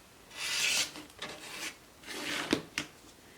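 A rotary cutter runs along a quilting ruler to trim the sides of a fabric block, making two soft scraping passes with a few sharp clicks between them, heard close up with no talking.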